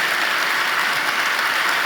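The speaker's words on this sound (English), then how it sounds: "I would like to lead the audience in a round of applause" A lecture-hall audience gives a round of applause for a scientist, a dense, even wash of clapping that holds steady and loud throughout.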